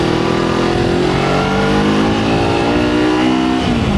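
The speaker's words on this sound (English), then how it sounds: "It's picking up revs, but it's not really picking up speed." Kawasaki Versys 300 motorcycle engine revving hard and steady, a loud, continuous close-up drone with pitch slowly climbing through the revs, with no speech over it.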